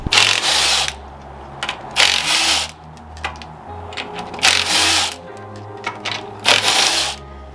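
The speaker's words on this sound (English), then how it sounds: "Let's go ahead and jack this up and get this wheel off." Repeated ratcheting clicks of a jack raising a Mazdaspeed 3 to take a wheel off, coming in several loud bursts separated by short pauses, close up with a low background hum.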